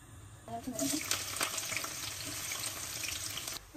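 Chillies and onions dropped into hot oil in a home kitchen, a quick splatter then a steady close sizzle that holds for a few seconds before easing off.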